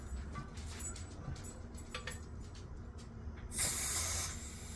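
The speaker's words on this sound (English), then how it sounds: "little steam come out" Steam hisses out of a pressure canner used for canning pork as it finishes depressurizing, a soft, steady background hiss swelling into a louder, brighter burst of venting near the end.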